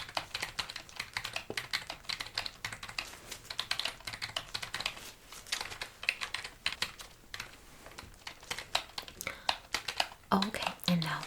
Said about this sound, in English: Please let me type in results.